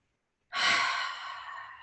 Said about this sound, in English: One generous breath, inhale here, exhale